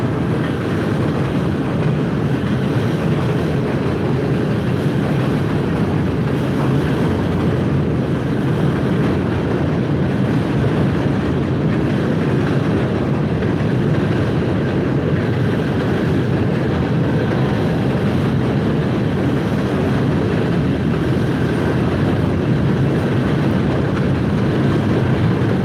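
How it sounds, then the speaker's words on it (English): A heavy-duty train rolls past nearby, a loud, continuous broadband rumble and roar that holds steady for the whole stretch with some wind buffeting. "So I'll show you the train that's going by."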